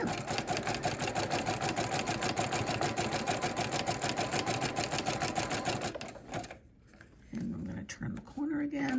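Sewing machine stitching fabric-wrapped rope trim, a steady rapid needle chatter running for about six seconds, then stopping as the fabric is turned at a corner, with a short burst of stitching resuming and a voice speaking over it.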